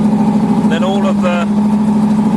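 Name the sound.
1972 Corvette Stingray 454 engine idling off choke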